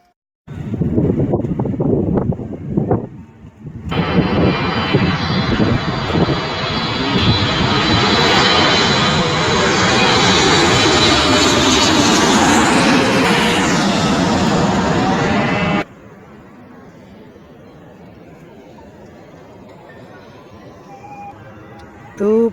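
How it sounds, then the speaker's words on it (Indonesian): A low-flying airplane roars directly overhead at a cemetery burial in Indonesia, its loud engine noise swelling suddenly and holding for about twelve seconds before cutting away, with people speaking under and around it. "Tuh pesawat tiba-tiba datang."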